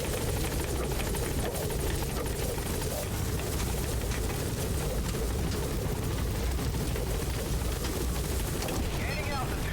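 A military helicopter in Metal Gear Solid V: The Phantom Pain lifts off, its rotor and turbine making a loud, dense, continuous thrum that fills the scene without pause.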